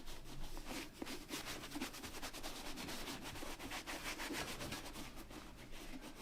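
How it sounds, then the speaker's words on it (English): A rag rubs universal leather cream over a leather work boot in steady, brisk back-and-forth strokes, a continuous close scuffing texture with no speech. "Rub it all over."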